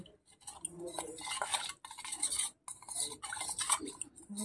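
Spiced batter being mixed with water by hand in a bowl, giving soft, wet stirring and clinking against the bowl in bursts with brief pauses, close and fairly quiet.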